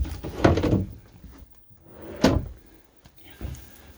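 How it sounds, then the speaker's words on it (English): A large drawer low down in a compact Rapido C55i motorhome slides open and shut, giving two distinct rumbling thuds a couple of seconds apart and a softer third movement, close by with no talking. "A very nice big drawer down there."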